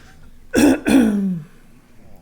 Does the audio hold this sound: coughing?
yes